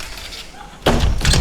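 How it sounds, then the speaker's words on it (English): An interior house door is shut, producing a loud close thump followed by a second knocking bang after a quieter moment of room noise. "we need to close the door"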